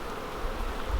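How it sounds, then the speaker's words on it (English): Honey bees from a feral oak-tree swarm buzzing around hive frames during a hive split, a dense steady drone close by. "So those are bees that survived on their own in the oak tree for 20 years."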